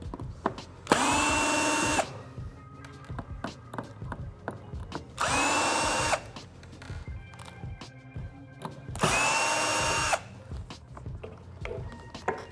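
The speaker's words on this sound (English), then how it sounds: "your next step is to remove these 3 screws." Power screwdriver backs out three screws from the rear section of a PT-01 Scratch turntable during a crossfader install, three loud whirring bursts of about a second each separated by quieter handling clicks and rustles.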